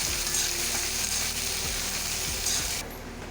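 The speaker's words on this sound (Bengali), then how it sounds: "পেঁয়াজটা একটু ব্রাউন করে ভেজে নিই" Onions sizzling as they fry to brown in hot oil for a Bengali mutton and potato curry, a steady continuous crackle with soft occasional stirring bumps throughout.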